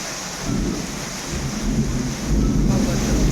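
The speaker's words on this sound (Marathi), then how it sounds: "खूप जोराचा पाऊस येत आहे." Heavy first rain of the season in Umred pours steadily in a dense, loud roar, swelling a little stronger toward the end, with no voices.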